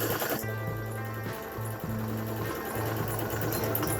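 A sewing machine stitches a homemade fabric face mask, running in several steady bursts of rapid mechanical whirring with short pauses between runs, close and alone.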